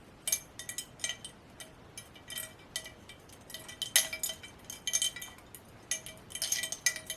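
Wind chimes tangled together clink and ring in quick, irregular clusters of bright metallic tones as they are worked loose, faint and close with short pauses between jingles.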